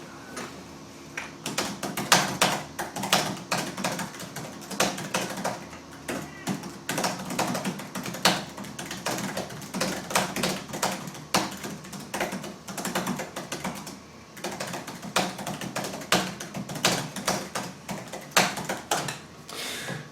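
Rapid typing on a 2008 IdeaPad gaming laptop keyboard, a steady flurry of light clicky keystrokes close up, with brief pauses between bursts.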